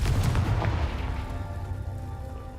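Bombarda and Confringo spells blast in Hogwarts Legacy. Loud, close booms hit in quick succession, then trail off into a fading rumble, with no talk.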